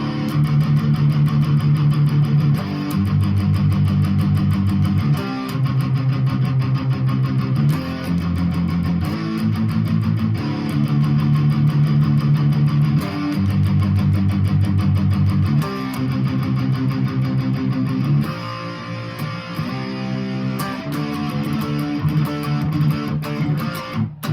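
Electric guitar plays a driving, slightly distorted part of a song over a steady strummed acoustic backing, loud and continuous with brief pauses between phrases.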